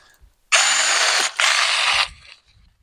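Parkside cordless garden shears snip through a vine branch in two loud, close mechanical whirring bursts, the first about a second and a half long and the second about half a second, with a brief pause between them and no talking.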